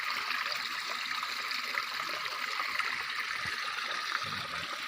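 Steady broadband rush of a waterfall fed by a natural spring, fairly close and continuous, with no speech over it.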